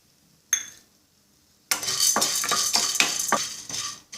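Chana dal is tipped into hot oil and stirred: a short sharp clink, a pause, then steady sizzling with spoon scrapes and clinks against the pan.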